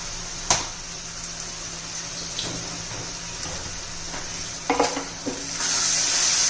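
Tomato puree hits sautéed onions in a hot pan for a garlicky chickpea-greens dish, giving a steady sizzle with a few sharp spatula scrapes and a louder hiss near the end.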